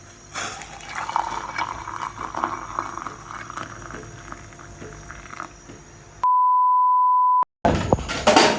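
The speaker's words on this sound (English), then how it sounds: "My water is finally boiling up." A pot of water boils, a continuous bubbling, burbling wash that holds steady for several seconds, then is cut off by a loud, sustained electronic beep.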